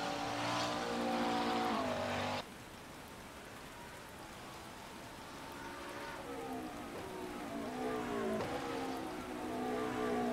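Steady rain hisses in rFactor 2 racing, a dense wash of drops heard under a droning GT3 race car engine whose pitch rises and falls as it laps the track.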